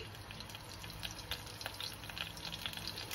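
Mustard and fenugreek seeds frying in hot oil that was earlier used to fry fish, a soft steady sizzle with faint popping and crackling, heard alone with no talk.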